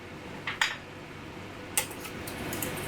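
A utensil clinks and scrapes against a bowl while sweet and sour sauce is mixed from white wine vinegar, soy sauce, tomato ketchup and sugar, giving a few sharp taps over a quiet background.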